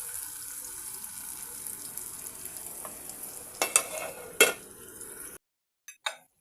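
Tomatoes with salt stirred and simmering in a pan for an eggplant and dried fish curry, a steady soft sizzle with a few louder scrapes of stirring near the end before it cuts to quiet.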